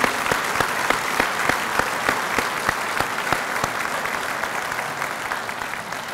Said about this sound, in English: Let's give these people a round of applause for coming.